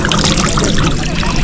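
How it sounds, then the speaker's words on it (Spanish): Water poured over a person's head in a ritual cleansing, a loud close splashing pour that runs steadily for over a second. "Tienes que tirar 3 veces el agua en la cabeza."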